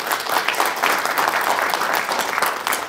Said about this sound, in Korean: 정만중 회장님 박수로 환영합니다